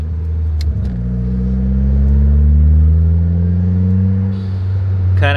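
A car accelerates while driving: a close engine note climbs steadily in pitch, eases off, then rises again at the end, loud and with no talking.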